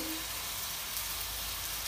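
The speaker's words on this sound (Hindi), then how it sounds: "इसको भी हम 5 से 10 मिनट तक भूनते हैं" Sarson ka saag, a Punjabi mustard-greens mixture, sizzles as it fries in a pan, a steady, soft, hissing crackle that continues unbroken throughout.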